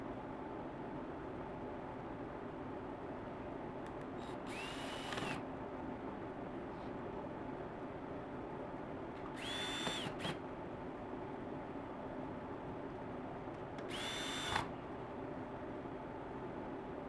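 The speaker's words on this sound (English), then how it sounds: "remember, just 4 screws." A power screwdriver backs out screws from the door switch plate bezel of a 2017 Ford Expedition, three short whirring bursts spaced several seconds apart over a steady background hiss.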